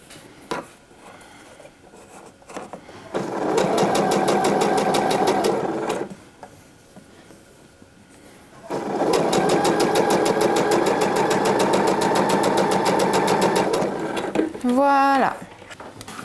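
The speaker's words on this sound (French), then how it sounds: "je fais le deuxième fil de fronce parallèle au premier" Sewing machine stitching a second gathering thread parallel to the first on a dress, two long bursts of rapid, even needle rattling separated by a quiet pause, close and loud.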